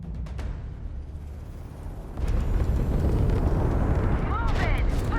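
A spaceship in the sci-fi game Starfield blows apart: a few sharp cracks, then a sudden deep roaring explosion that swells and rumbles on, with crackling debris near the end.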